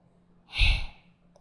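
One forceful exhalation during a yoga breathing exercise, a short breathy whoosh from close by that swells and fades within about half a second against a quiet background.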